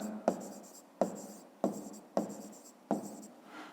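Pen strokes on paper while working a fifth-grade math exercise, five short scratchy bursts at a steady pace, each starting with a tap, close and quiet, no voice.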